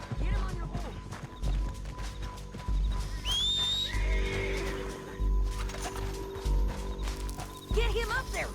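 A horse in Red Dead Redemption 2 whinnies and clip-clops amid gameplay, with shouting voices and other game sounds around it.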